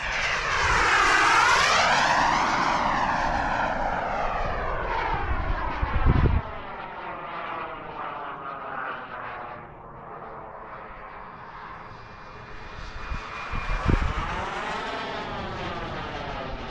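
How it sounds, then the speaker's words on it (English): An AeroFoam L-39 RC model jet makes a full-throttle speed pass, its loud whine sweeping in pitch as it approaches and passes, then fading before another rising pass near the end. "I'm gonna do a fast speed pass just because I have a GPS meter inside and I want to see what it does. So this is full throttle pass."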